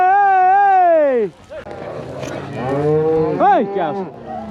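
Cattle on an outdoor cattle drive moo: one loud, long, close moo opens, then further lowing and bellowing calls sound beneath a person shouting at the herd.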